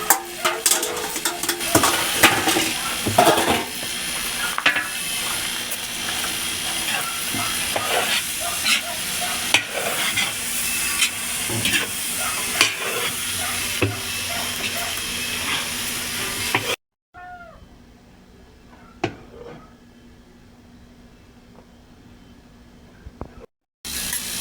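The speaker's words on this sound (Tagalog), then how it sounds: "Kaya pagkalagay nyo ng rice, haluin nyo lang haluin hanggang maging pantay yung color niya." Beef chaofan fried rice being stirred and tossed in a pan, with continuous sizzling and frequent utensil scrapes and clinks, then a near-silent pause broken by a few faint taps before the frying resumes.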